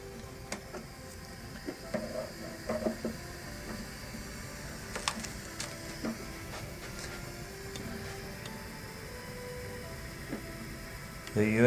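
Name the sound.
Entina Tina2S 3D printer printing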